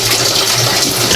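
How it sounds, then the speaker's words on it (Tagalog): Water gushes steadily from a hose or tap to refill the water supply in a pig pen, a loud continuous splashing rush with no pauses. "naglagay ulit tayo ng tubig kasi naubos yung tubig na natin"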